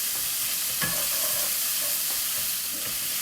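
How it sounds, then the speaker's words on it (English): Onion fries in a pan to soften for a mushy pea curry, making a steady, close sizzle throughout with a few scraping stirs mixed in. "Right, the onion goes in. Just soften it up."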